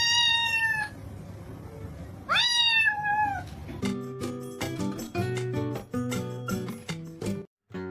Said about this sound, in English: Look at my cat.